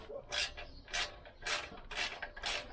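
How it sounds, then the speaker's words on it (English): A socket wrench works loose the 8 mm flywheel cover bolts on a Lambretta scooter, giving five short, close rasping ratchet bursts at a steady rhythm with quiet gaps between. "Just use the socket and take them off"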